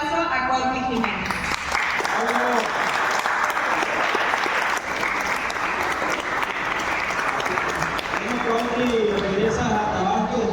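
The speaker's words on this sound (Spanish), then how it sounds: "Recibamos con un fuerte aplauso a Cuautli Jiménez." A theater audience in Cárdenas, Tabasco, gives loud, sustained applause to welcome a speaker to a masterclass. The dense clapping runs steadily for about ten seconds, with a few voices audible near the start and end.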